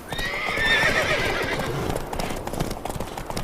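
Horse hooves clip-clopping at speed in a video game set on horseback, a loud close rhythmic patter with a whinny-like call near the start, no talk.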